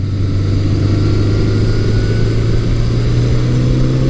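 1983 Suzuki GS1100E motorcycle engine pulling steadily as the throttle opens on the road, a loud, continuous low drone with a constant hum and rumble from start to finish.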